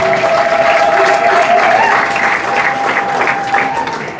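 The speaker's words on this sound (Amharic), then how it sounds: "ለመጣው ለእግዚአብሔር ክብር ከዚህ በላይ እልልታ" A congregation at a prophetic church service cheers and ululates, a loud, sustained crowd roar with high warbling trills that rise and fall above the applause for about four seconds.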